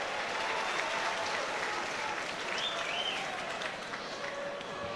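Stadium crowd at a 2013 rugby league World Cup match between New Zealand and Samoa applauding the referee, sustained distant clapping from a large crowd that holds steady throughout.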